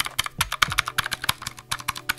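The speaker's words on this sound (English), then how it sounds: "it's made of keyboard switches and they're all these clicky type" Clicky keyboard switches on a 3D printed hitbox gamepad controller for Super Smash Brothers on the Switch, pressed in quick irregular bursts of sharp, close clicks.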